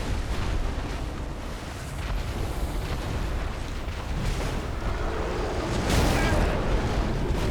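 Fire bomb-rush explosions from a boss attack in Dark Souls 3, Ringed City DLC: a dense, roaring broadband rumble throughout with a louder burst of blasts near the end.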